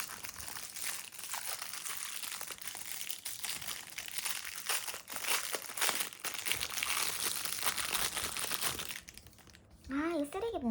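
Plastic packaging crinkles and rustles continuously as a BTS merch box is unwrapped, a close, bright crackling with a few sharper crunches, followed by a short spoken voice at the end.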